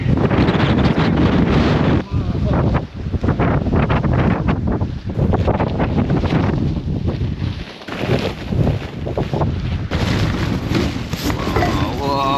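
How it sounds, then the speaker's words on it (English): Strong wind roaring and buffeting at an exposed wild camp beside a boulder, a constant loud gusting rush pressing against the microphone with brief lulls, while someone speaks over it. "the wind's picking up and I can't get that tarp up"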